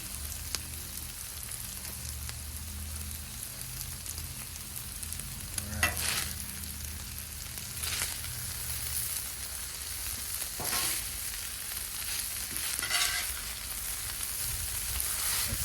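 Al pastor meat fries on a 36-inch Blackstone griddle, a steady close sizzle and crackle with occasional scraping strokes of a spatula across the flat top, no talking.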